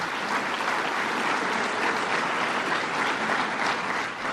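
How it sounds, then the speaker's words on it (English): A large audience at a Long Island regional economic development council event applauds the host and co-chairs, a loud, dense, continuous roar of clapping that holds steady without pause. "Let's give a round of applause to the host and the co-chairs again."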